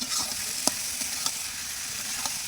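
Boiled potatoes frying in spice masala in a pan, a steady close hiss of sizzling oil with a few brief clicks of stirring.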